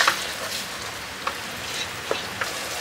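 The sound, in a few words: spice paste with water simmering in a pan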